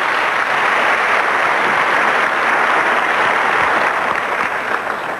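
Dense, loud applause from a large audience at a presidential debate fills the hall continuously, a steady roar of many hands clapping.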